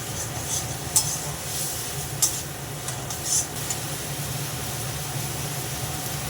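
Masala being stir-fried in a pan for an aar fish curry, a faint steady sizzle under a few quick clinks and scrapes of a spoon against the pan, with no talking.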